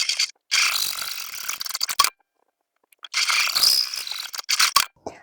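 A sewing machine stitches a line through fabric for a zipper toiletry pouch, running in two rapid whirring bursts separated by about a second of silence, close and fairly loud.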